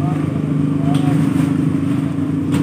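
A Yamaha Mio Sporty scooter engine with a newly installed carburetor runs with a steady, close, throbbing idle and slight revving, continuous throughout the short stretch.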